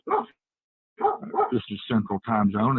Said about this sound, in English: Anyway, sorry about the dogs.